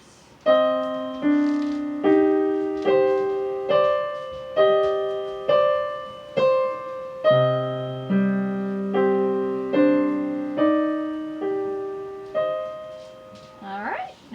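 A piano plays a measured passage, steady struck notes and low chords, each ringing and fading, with a brief voice near the end.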